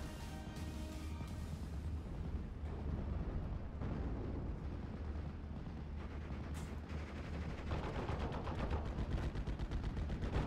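Dense rolling explosions and rapid gunfire in a World War II strategy game, as a P-47 fires a rocket run, form a continuous loud rumble of overlapping blasts and crackling bursts.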